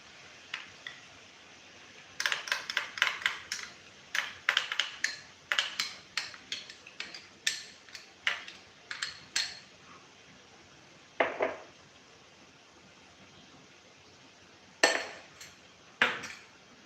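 A spoon clinks and scrapes against a pan as red chili spice mix is stirred into cooked tomato and onion, giving a run of quick, close metallic taps in uneven bursts, then a few sparse knocks.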